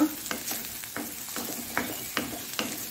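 Ginger garlic paste fries in a pan for an egg masala gravy, giving a soft, even sizzle with a spoon stirring and tapping lightly at intervals, close by but fairly quiet.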